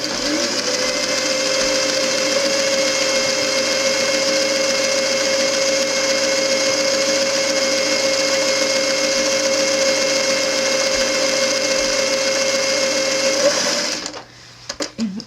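A sewing machine runs steadily while stitching fabric for an accurate seam, a loud, continuous mechanical whir that holds for about fourteen seconds before cutting off into a few soft handling clicks.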